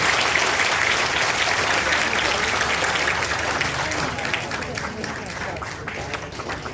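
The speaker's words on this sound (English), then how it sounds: "let's give our mentor, Tim Reed, another round of applause" A seated audience claps steadily after a talk, a loud, dense patter of many hands that holds throughout and only slightly thins toward the end.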